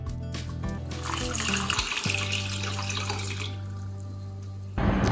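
Water pours steadily into a cooking pot for lemon jam, a continuous splashing stream with a low resonant hum beneath it, ending in a brief louder clatter; no voices.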